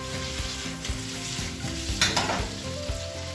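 French fries cooking in a pan with salt, black pepper and Montreal steak seasoning make a bright sizzle, with irregular knocks and scrapes of stirring layered over a low steady hum and a louder scrape near the middle.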